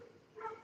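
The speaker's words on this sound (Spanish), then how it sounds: "perro ese que está ladrando como un desquiciado" A dog barks frantically somewhere near an apartment building, a short bark that comes through faint and muffled in the distance.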